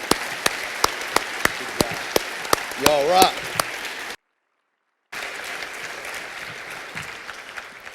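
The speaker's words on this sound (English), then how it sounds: "let's give these folks a big round of applause" Applause from the audience at a high school Veterans Day program, with scattered sharp claps at first that swell briefly and then break off into a pause before the clapping resumes at a steady level. A voice speaks briefly over the applause.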